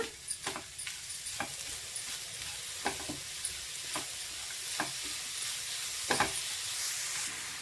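Sweet jaggery filling for kadubu being stirred in a pan: a spoon scrapes and taps the pan in an uneven rhythm over a soft, constant sizzle, close and moderately quiet, with no voices.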